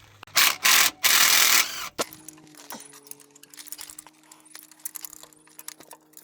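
Bolts on a Honda starter motor on a K24A four-cylinder engine are worked loose, giving bursts of loud rasping ratchet clicks followed by quieter metallic taps and tool rattles close by.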